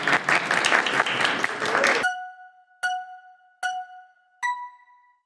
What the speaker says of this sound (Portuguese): Palmas para Cássio ali